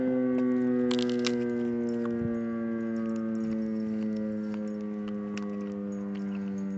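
A town noon siren wails as a long, steady tone with layered harmonics, sustained at moderate distance in a small-town setting, with faint clinks and background hum beneath it.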